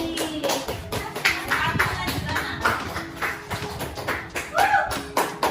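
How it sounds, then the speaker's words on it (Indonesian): Classmates in a school economics lesson clap for a student, a scattered round of hand claps and taps with uneven rhythm, close and moderately loud, with some voices mixed in. "Tepuk tangan untuk Messi."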